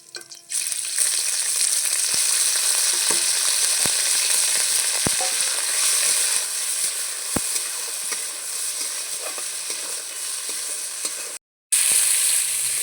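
Chicken pieces fry with lightly browned garlic in a pan, giving a steady, close sizzle throughout with a few sharp spatula clicks and one brief cut near the end.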